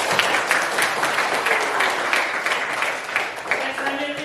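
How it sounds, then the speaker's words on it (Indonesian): A classroom of students claps together for a classmate, a dense, lively round of applause from many hands that carries on throughout and eases slightly at the end; a voice speaks faintly underneath. "Aplaus untuk temannya dulu."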